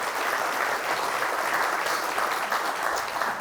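An audience at a city State of the City address claps in steady, dense applause throughout, loud and unbroken, with no voices over it.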